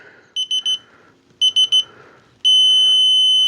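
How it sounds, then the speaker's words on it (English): Two bursts of three quick electronic beeps from a torque wrench, then a steady, unbroken high-pitched tone signalling target torque that holds to the end, over faint background noise. "when you get solid tone, when you hit your target torque"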